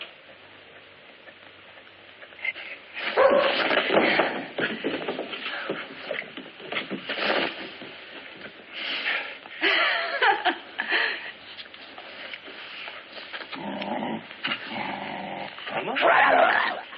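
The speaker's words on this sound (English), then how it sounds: "he's only a pup, a baby, practically." Puppy growling and whimpering in small bursts across the clip, mixed with shuffling movement while people talk and laugh nearby.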